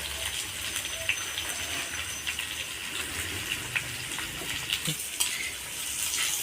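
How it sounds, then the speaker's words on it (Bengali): Vegetables fry in a pan for a Bengali fish-head and Malabar spinach dish, giving a steady soft sizzle with scattered utensil clinks and stirring scrapes, close and moderately quiet, with no talking. "সবজিগুলো ভাজা হয়ে গেছে"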